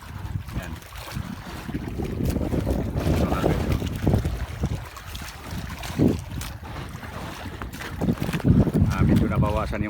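A fishing boat at sea in strong wind with big waves, heavy buffeting wind noise and churning water running continuously and loud, with bursts of gusts and spray.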